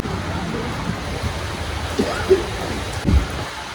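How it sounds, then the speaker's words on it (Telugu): Heavy rain falls in Kuwait in a steady, broad wash outdoors, with a few faint thumps and brief murmurs of voices partly buried in the downpour. "పెద్ద వర్షం పడుతుంది అనమాట"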